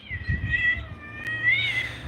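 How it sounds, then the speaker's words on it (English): A cat gives two drawn-out, rising meows close by, with a sharp click between them and a low hum underneath. "That's a cat."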